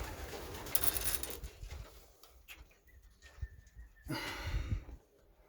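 Racing pigeons coo softly nearby in low, throaty bursts, with rustling and a few sharper noises mixed in.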